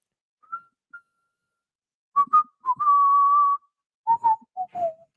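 A person whistles a short tune, a couple of brief faint notes followed by a sustained clear whistled tone and a few quick notes, alone with no talking.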